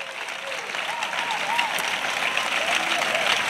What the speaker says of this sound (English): Et acclame. And clap. Plus fort que ça. Louder than this.